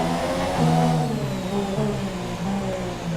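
A Formula 1 car's engine in the pit lane in the racing game F1 2017, a loud, steady buzzing drone held at limited speed that wavers slightly in pitch, with no talking over it.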